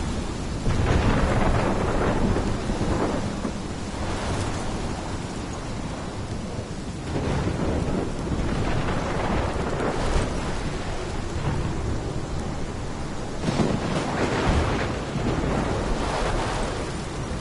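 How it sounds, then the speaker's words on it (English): A thunderstorm from the video game Life is Strange: heavy rain pours without pause while several deep thunder rumbles and cracks roll through at irregular intervals, loud and close, with no voices. "This is my storm."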